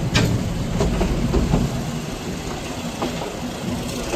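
A passenger train pulls out of Lalmonirhat station, with a steady rumble and rhythmic clickety-clack of wheels heard from inside the carriage.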